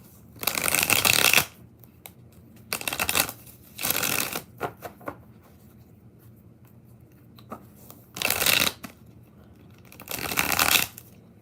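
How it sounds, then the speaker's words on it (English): Tarot cards are shuffled in several separate bursts of crisp riffling, each lasting about a second, with quiet gaps and soft handling noises between them. "We're going to do 5 shuffles."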